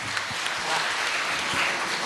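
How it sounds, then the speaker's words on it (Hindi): Audience applause at a kavi sammelan poetry gathering, a steady dense clapping crowd that holds evenly from start to finish. "एक बार तालियां बजा दीजिए।"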